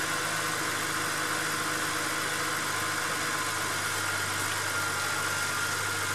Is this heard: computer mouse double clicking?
no